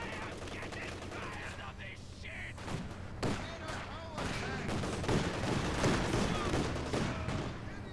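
Battle sounds from Company of Heroes 2, a 2v2 match: dense machine-gun fire and rifle shots with a sharp sniper crack, heavy booms and explosions mixed in. The fire is continuous and loud and grows busier toward the end.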